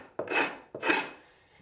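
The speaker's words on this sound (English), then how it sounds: "we've got our trusty Linbide scraper" A Linbide scraper rasps across a floor, stripping old glue and varnish build-up: two firm, gritty strokes close by, each starting abruptly and fading, with no talk.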